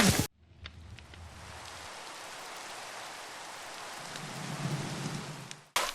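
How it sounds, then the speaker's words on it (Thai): Steady rain pours in a Minecraft game during a camping survival session, with low rolling thunder rumbling beneath it and swelling toward the end. The hiss is continuous and fairly quiet, with voices only at the very start and end. "แล้วฝนมาตกอะไรตอนนี้วะเนี่ย"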